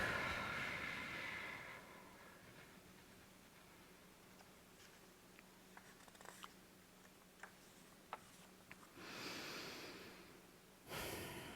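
Gentle breathing during a guided breathing exercise: a slow, audible inhale and exhale at the start and again near the end, with faint clicks in the quiet between.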